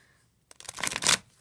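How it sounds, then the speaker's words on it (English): A deck of tarot cards on thick cardstock being shuffled, a quiet pause giving way to a dense, riffling burst of card flutters that builds and then stops abruptly, close and fairly loud. "Oh, this is so gorgeous to shuffle."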